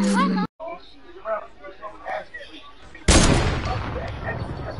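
A single sniper rifle shot fired over an extremely long range, a loud sudden crack followed by a lingering rumble, coming after a stretch of quiet talking.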